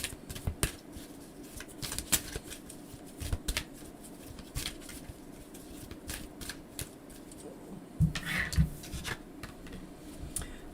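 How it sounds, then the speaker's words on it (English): Tarot cards being shuffled up close in soft, irregular riffles and taps, with brief louder flicks scattered through a quiet room. No speech. "So I'm shuffling and seeing what Gita needs to"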